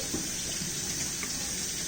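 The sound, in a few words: washing hands under a running tap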